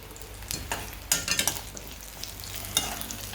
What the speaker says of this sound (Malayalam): നമ്മൾ നെയ്ക്കകത്തൊക്കെ ഇത് കടുക് വറക്കുമ്പോൾ